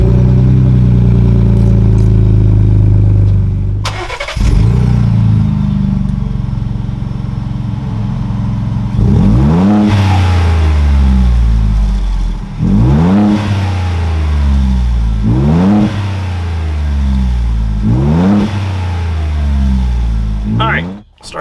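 Ford Bronco engine fitted with an AWE off-road exhaust, idling with a deep rumble, then revved in five or six sharp, loud pulls that fall back to idle between them, recorded close up.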